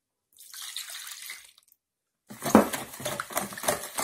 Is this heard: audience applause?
no